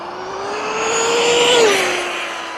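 A Limitless RC car, a ready-to-run speed build, screams past at top speed with a rising, steady high-pitched motor whine that swells toward the middle and fades slightly after, loud and close with no talking.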